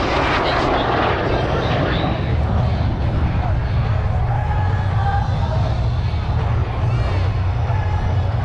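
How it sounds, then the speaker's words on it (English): A 1959 Royal Canadian Air Force jet makes a high-speed pass at up to 450 knots at an airshow, producing a loud, continuous roaring rush with a faint shifting whine and crowd noise underneath. "Here comes a high-speed pass at up to 450"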